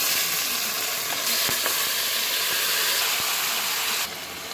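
Duck meat fries with onions in a wok, giving a steady, loud, hissing sizzle throughout with a few faint stirring knocks, easing slightly near the end.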